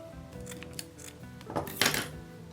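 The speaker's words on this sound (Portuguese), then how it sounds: "Deixa eu cortar aqui um pedacinho do viés" Scissors snip through a small piece of bias binding, several quick close cuts that end in a sharper final snip, with soft rustling of fabric and no speech.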